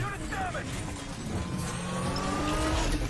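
A police Ferrari driving in a racing video game, its engine droning steadily at mid distance with faint tire squeal and mechanical whine, under a constant wash of game sound and background noise.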